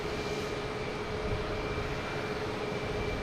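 A JetBlue Airbus A220 on approach into Boston Logan Airport makes a steady, broadband roar that holds at an even level from start to finish, with a faint tonal whine running underneath.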